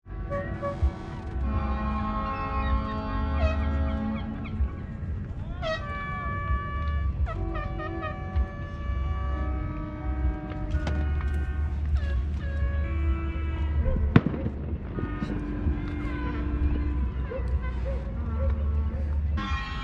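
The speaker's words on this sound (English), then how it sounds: "a traditional blowing of the horns" Long, steady horn blasts sound at a distance in a traditional sunset horn blowing near Block Island, rising and holding over background chatter and outdoor ambience.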